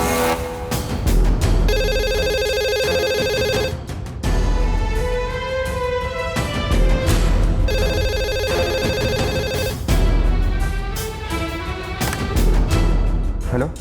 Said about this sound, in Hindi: मैंने लैंडलाइन पे फोन क्यों किया मालूम है ना?